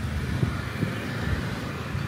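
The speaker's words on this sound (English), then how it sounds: "Bit of traffic." Faint, distant street traffic drifts through a quiet Vietnamese town on a Saturday afternoon, a low steady rumble of passing vehicles with wind noise on the microphone and no clear voices.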